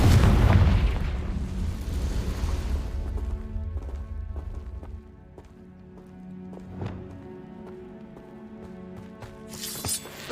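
A Confringo fire-blast spell explodes in the Hogwarts Legacy video game, a loud, rumbling boom that fades over several seconds, followed by quieter game sounds and a sharp burst near the end.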